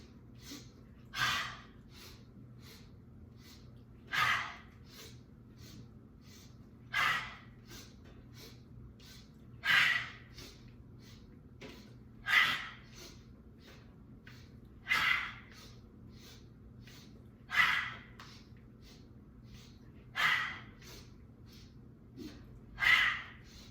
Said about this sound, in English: we're going to do 10 rounds of these breaths today